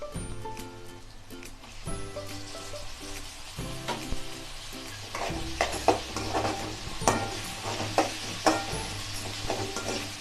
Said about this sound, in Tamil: இப்போ தக்காளியை சேர்த்துக்கலாம்.